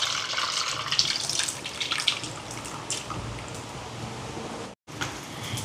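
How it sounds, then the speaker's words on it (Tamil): Soaked tamarind water pours into a Jaffna-style crab curry as a continuous close splashing and gurgling stream, broken by one brief pause near the end. "இப்போ பாருங்க புளி விட போகிறேன்"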